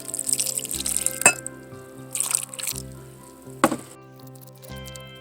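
Water is poured into a mixing bowl of salt and lentil mash, splashing and trickling in short bursts with a few sharp clinks against the bowl, over a steady low background hum.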